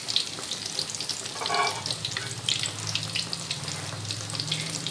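Fish fingers fry in hot oil with a steady, close crackling sizzle throughout, with a brief bubbling burst in the middle and a low hum underneath.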